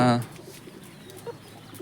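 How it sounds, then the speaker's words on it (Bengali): On a farm with ducks and chickens, a pigeon gives one short coo at feeding time, followed by faint pecking and rustling. "কবুতরগুলোকে খাবার দিই"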